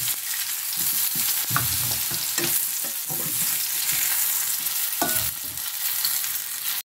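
Zucchini fries in hot oil in a pan with a loud, steady sizzle that fills the whole stretch, broken by a few clinks and scrapes of stirring, with no talking.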